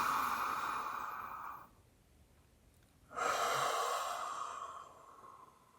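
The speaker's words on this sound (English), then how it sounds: "And on one more, we're going to inhale in." A slow, deep inhale through the nose during a guided meditation, soft and airy, followed by a pause and then a long breath out, close and quiet with no speech.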